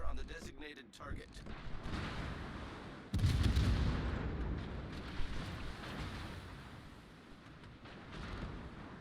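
Naval guns boom in World of Warships, landing as repeated heavy blasts with one big salvo partway through, followed by rumbling decay, all under a player's excited talk.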